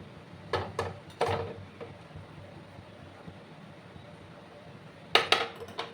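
A few metallic clanks as a wok is shifted, then quiet, and a sharper clatter of metal against a bowl near the end.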